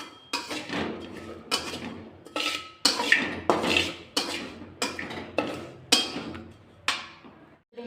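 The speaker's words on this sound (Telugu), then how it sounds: "నువ్వులు వేసి వేయించుకోవాలి." Sesame seeds frying in a pan, heard as about a dozen regular crackling, scraping strokes of stirring with metallic clinks, close and moderately loud, each swell fading before the next.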